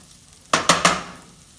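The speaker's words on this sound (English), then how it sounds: "by toasting the rice, you're adding just another layer of flavor" Three quick scraping, crackling bursts as farro grains are stirred and toasted in a hot pan for risotto, each fading into a soft sizzle; no talking.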